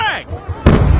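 A frag grenade detonates in a Black Ops 2 Domination multiplayer match as one loud, close blast that booms and rumbles into a short rolling tail, after a brief burst of game voice callout.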